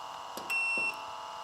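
A single steady electronic beep from the start button of a Vevor ultrasonic vinyl record cleaner, lasting under half a second, with a couple of faint clicks around it and no talk.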